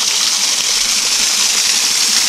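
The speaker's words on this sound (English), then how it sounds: "This is that waterfall I've only seen from a distance," A small waterfall in Hanaupah Canyon in Death Valley's Panamint Mountains, a loud steady close rush of falling water that fills the sound with an unbroken hiss and no other noises.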